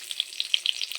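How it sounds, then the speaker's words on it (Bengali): Whole bay leaves and cumin seeds fry in hot oil in a home kitchen, giving a light, steady sizzle with small crackling pops scattered throughout, close and fairly soft. "এখন ওই একই তেলে আর একটু তেল দিয়ে গোটা তেজপাতা,"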